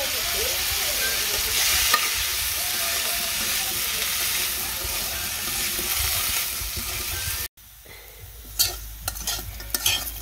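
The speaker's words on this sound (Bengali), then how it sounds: "এই তো আমার উস্তে আলু ভাজা হয়ে গেছে" Bitter gourd and potato fry in a pan with a steady, close sizzle and stirring scrapes, then a brief break before quieter clatters of the utensil against the pan.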